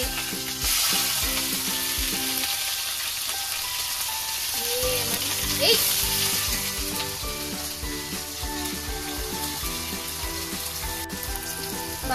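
Cloves and cinnamon sizzle steadily in about a litre of frying oil for a biryani, a continuous loud crackling hiss with stirring, heard alone without talk.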